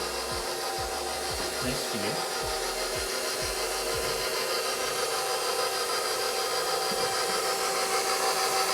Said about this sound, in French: on repart le malaxeur à basse vitesse pour mélanger dans un premier temps